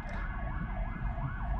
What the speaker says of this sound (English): Some sort of ambulance trying to get through all that traffic